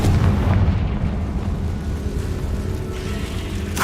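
A Confringo fire spell explodes in Hogwarts Legacy, a heavy rumbling blast that opens loud and then fades into a sustained low roar, ending on a brief sharp burst.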